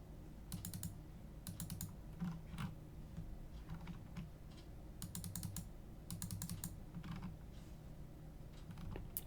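Faint computer mouse and keyboard clicks come in short clustered bursts during on-screen corner trimming in a drawing program, soft and close over a low background hum.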